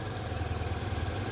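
Honda X-ADV scooter engine idling steadily in neutral, a low even rumble with a faint mechanical pulse, close and constant throughout with no revving.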